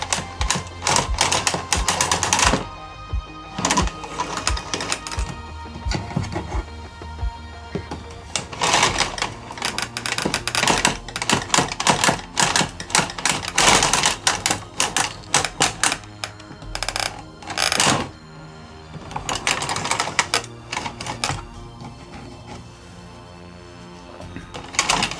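A 1990s knitting machine works at close range, its carriage rattling and clacking in dense, rapid mechanical bursts with brief pauses. No speech is heard.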